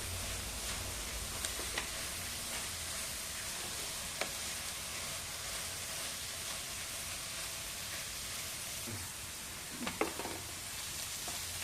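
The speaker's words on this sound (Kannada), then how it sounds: "ಫ್ರೈ ಮಾಡ್ಕೊಳ್ಳಿ. ಆಲ್ಮೋಸ್ಟ್ ಫ್ರೈ ಆಗಿದೆ." Bottle gourd sizzles steadily while being fried in a pan for halwa, a continuous soft hiss with a few light stirring clicks and scrapes near the end, close and alone without any voices.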